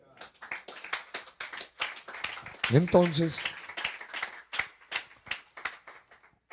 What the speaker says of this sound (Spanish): Dale aplauso al Rey.